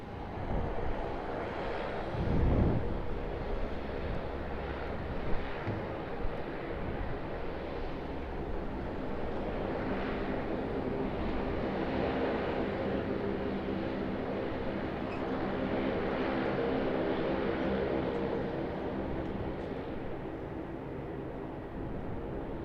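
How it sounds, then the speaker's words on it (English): A Qantas Airbus A330 taxis at Sydney Airport, a steady, fairly distant engine rumble and whine carrying on throughout, with a brief louder whoosh near the start. "Qantas A330 just crossing in front of the Thai Airways."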